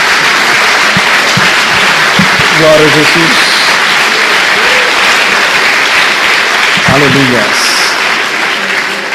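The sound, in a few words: applause in church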